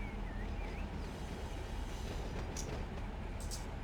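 Continuous low rumble and rolling noise of a freight train running through a Run8 train simulator game, with a faint whine and a couple of brief high squeals near the end, steady and loud.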